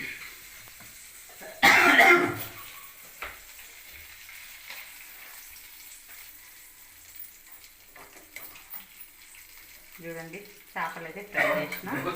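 A single loud cough bursts out near the start, followed by quieter kitchen sounds, a few faint clicks, and brief voices toward the end.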